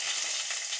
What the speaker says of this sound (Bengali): এবারে অল্প পরিমাণে একটু জিরে দিয়ে দিলাম